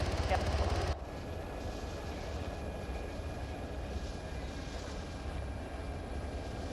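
Military aircraft on a landing approach during a field training exercise near a beach, a steady broadband engine roar that holds at a constant loudness throughout, with a louder burst at the very start and faint voices underneath.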